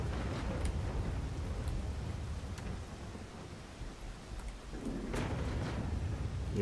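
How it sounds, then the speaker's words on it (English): Thunder from a lightning storm rolls through the Rain World game over a constant rain-like wash. Deep rumbling swells rise twice, with a heavier boom near the end, and no voices are heard. "there's actual legit lightning as a threat."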